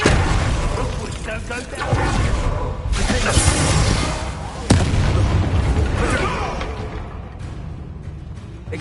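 Confringo fire spells burst again and again in a Hogwarts Legacy duel, dense booming blasts and crackling impacts piling up loudly with one sharp crack near the middle, while a voice speaks over the chaos.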